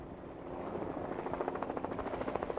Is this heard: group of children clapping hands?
no